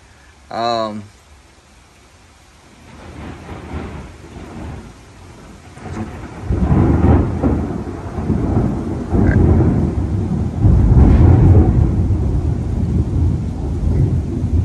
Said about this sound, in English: I saw the lightning flash and I was just waiting for the crash